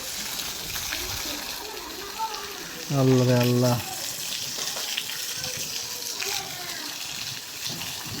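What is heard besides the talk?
rainwater pouring and flowing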